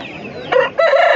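Roosters crow loudly and up close at a busy Sunday chicken market in Pileru, with two drawn-out calls, the second one longer and following a brief pause.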